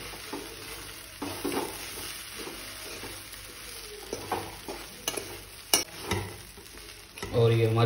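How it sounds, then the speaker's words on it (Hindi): Bread masala with a squeeze of lemon is stirred in a pan, with a low sizzle beneath intermittent scraping and tapping strokes, and a louder frying burst near the end. "थोड़ी देर चलाएंगे"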